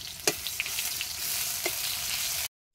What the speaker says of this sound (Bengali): সবার প্রথমে কেটে রাখা পেঁয়াজ দিয়ে দেবো।